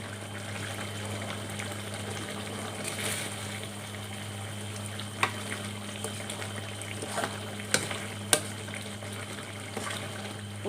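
A pot of southern Thai chicken curry simmers with a low steady drone, punctuated by a few soft, scattered pops and bubbling plops, close by with no talking.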